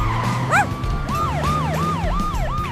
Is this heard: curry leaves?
no